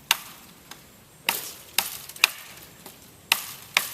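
A Tops Tom Brown Tracker T1 knife chops into wood with about seven sharp, separate impacts at an uneven pace, each a crisp close knock against a quiet background.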